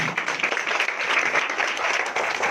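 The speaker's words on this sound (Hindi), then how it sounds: "ताली बजाओ।" A church congregation claps together during a Sunday service, producing dense, steady applause that holds throughout at an even level.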